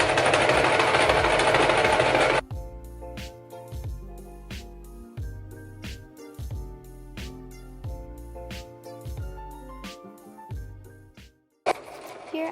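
A sewing machine stitches a T-shirt with elastic thread for shirring, running in steady, rhythmic bursts of mechanical whirring with short pauses between runs, preceded by a loud broadband stretch of noise and no talk.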